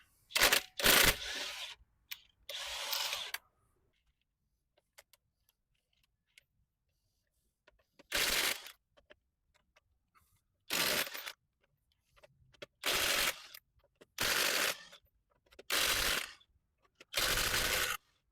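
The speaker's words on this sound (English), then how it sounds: "you're going to want to break these lug nuts loose before you lift it off the ground" Lug nuts on a car wheel are broken loose with a wrench before the car is jacked up, giving a series of short sharp ratcheting bursts separated by silent gaps.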